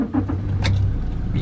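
A 2017 Toyota Hilux SVR 2.8 turbo diesel 4x4 automatic with a steady low engine rumble close by, broken by one sharp click partway through.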